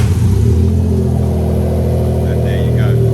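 A Toyota 1JZ-GTE inline-six turbo engine swapped into a Toyota Chaser GX100 starts on the key and settles into a steady, loud close-up idle with a low rumble. A voice talks faintly underneath.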